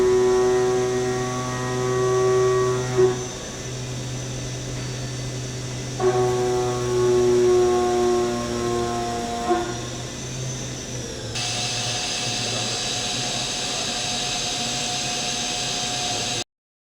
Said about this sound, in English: We're cutting a pocket out with dual drive, shrink fit